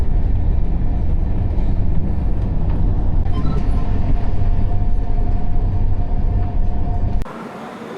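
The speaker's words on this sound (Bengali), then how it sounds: "ট্রেন এসে এখন পৌঁছালো কাটনিতে" A passenger train pulls in at Katni station during a group tour, heard from inside as a loud, continuous rumble and rattle of the carriages that cuts off sharply near the end.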